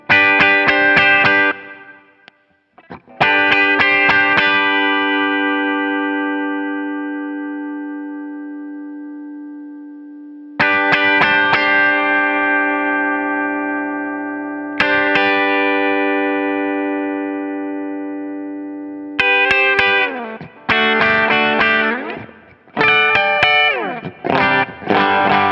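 Electric guitar through a Bearfoot FX compressor pedal, heavily squashed: sustained chords ring out evenly, separated by pauses, then a burst of short choppy strums near the end, with no talking.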